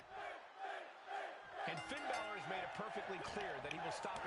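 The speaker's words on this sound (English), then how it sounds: "at least my crowds have finally started chanting something" Crowd chanting in a pro wrestling video game's MyGM mode, a steady rhythmic roar of many voices rising and falling continuously, growing fuller partway through.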